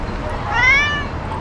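A tailless cat gives a single short, fairly close meow on a Penang street, rising and falling over about half a second against steady outdoor background noise.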